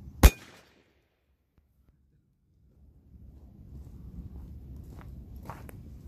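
A single loud, sharp shotgun blast at the very start, fired through a barrel bent at 90 degrees, followed by about two seconds of silence and then low outdoor rumble and faint shuffling.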